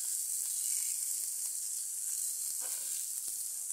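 Chopped vegetables, following spinach, hit hot oil with onions already fried red, giving a steady, close, continuous sizzle and hiss with a faint stir near the end.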